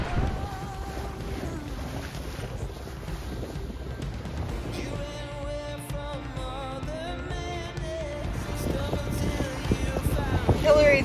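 A sailboat sails back into a bay, with steady wind buffeting and water rushing along the hull. Faint talk can be heard at times.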